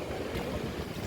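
A brief, steady roar of heavy typhoon rain driven by strong wind outdoors, dense and continuous with wind rumble across the low end and no voices.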